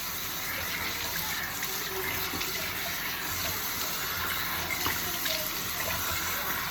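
Water runs steadily from a tap into a sink during a face rinse, a continuous close hiss with light splashing and no talk.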